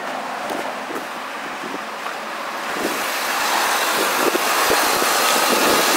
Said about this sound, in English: So you got a nice rumble from the V8.